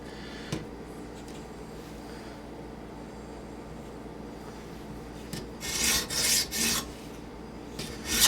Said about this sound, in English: I'm rubbing off all my Sharpie